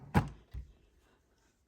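Top drawer of a colouring supplies cabinet pulled open, a sharp near knock followed by a softer thud, then quiet.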